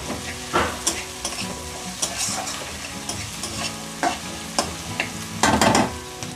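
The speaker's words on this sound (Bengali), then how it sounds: "এবার আমি কড়ার মধ্যে ছোট ছোট করে কুচি করা কাঁচা লঙ্কার কুচিগুলো আমি দিয়ে" Chopped green chillies sizzle in a hot kadai of oil, a steady frying crackle broken by a few louder clatters of stirring and spoon knocks, close and alone with no talk, for a dhaba-style dal tarka.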